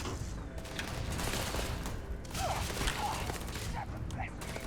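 Pistol fire in the Starfield tutorial firefight: a loud run of shots and impacts over continuous combat noise, with voices speaking at times.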